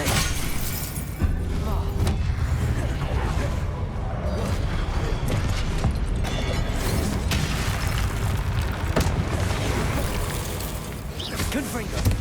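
Confringo blasting spells explode in Hogwarts Legacy amid a constant dense wash of combat noise, with booming bursts and crashing impacts repeating throughout over a loud rumbling bed, and a voice talking over it.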